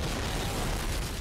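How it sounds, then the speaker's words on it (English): Loud, continuous rumbling blasts and bursts, dense and chaotic like overlapping explosions in Call of Duty 3, filling the whole clip with no pause. "Everything's blowing up."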